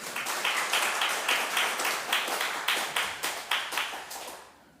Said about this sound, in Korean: 우리 40, 50대 힘내라고 박수 한번 해주십시오